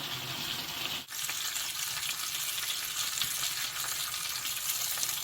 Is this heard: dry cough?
no